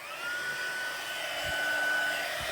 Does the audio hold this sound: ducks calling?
no